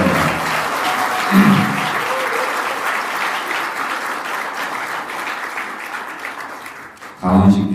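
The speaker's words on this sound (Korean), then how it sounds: "박수로 크게 응원해 주시기 바랍니다" Sustained applause from a room of regional committee chairs at a Korean political gathering, cheering President Lee Jae-myung, continuous dense clapping with a voice speaking over it and brief louder bursts.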